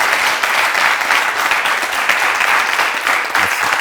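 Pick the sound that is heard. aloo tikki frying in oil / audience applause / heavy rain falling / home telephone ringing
audience applause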